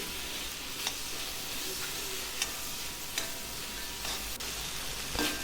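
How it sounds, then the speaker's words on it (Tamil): Tomatoes sautéing with salt in a pan for a country chicken curry, a soft continuous sizzle with occasional stirring scrapes and clicks of a spoon, fairly quiet and close, no talking. "அதுக்காக உப்பு சேர்த்து வதக்குறேன்."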